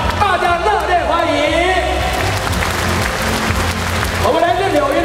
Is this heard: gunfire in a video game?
no